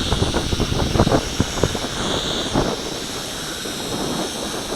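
A Syma X5SC-1 quadcopter drone flying at full forward pitch against a light wind, its rotor whine nearly buried under heavy rumbling wind buffeting on the microphone, loud and continuous.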